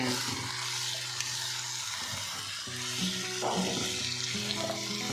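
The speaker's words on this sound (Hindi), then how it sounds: "2-3 मिनट अब आलू को फ्राई करेंगे।" Potatoes frying in a pan for egg-and-potato bhujia, a soft, continuous sizzle with occasional faint stirring scrapes, quiet and close with no voices.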